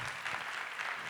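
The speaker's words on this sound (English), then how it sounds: "Let the applause accompany him to the podium." Audience applause welcoming a speaker to the podium at a lawyers' orientation, a steady continuous patter of clapping that stays fairly even and moderately loud for its whole length.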